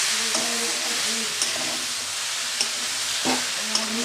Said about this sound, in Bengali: দেখো মশলাটা দিয়ে কিন্তু আমি ভালোভাবে কষিয়ে নিয়েছি।